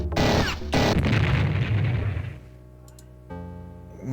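A time bomb goes off on an armored carrier in a Cyberpunk game, giving two heavy, loud booming blasts in quick succession, then a rumbling decay and fainter electronic tones.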